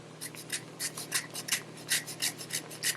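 Frozen ginger being grated in quick, rhythmic rasping strokes, about a dozen in three seconds, close and crisp over a faint steady hum.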